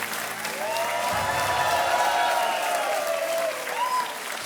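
Studio audience of a televised quiz game show applauding, a sustained dense clapping that fills the space, with a rising musical tone sweeping underneath it before settling.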